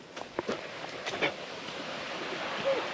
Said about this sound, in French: Vous commencez à entendre les bruits des cascades.